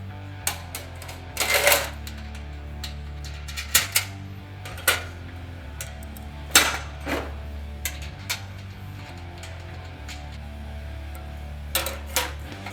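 Bolts being hand-tightened on the legs of a Grainfather SF70 conical fermenter, giving a run of sharp metallic clicks and clinks in irregular bursts over a steady low hum, close by with no talk.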